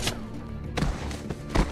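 A game character trips and falls in The Walking Dead 400 Days, giving a few dull thuds spread over about two seconds, the strongest hits landing near the end over a low background rumble.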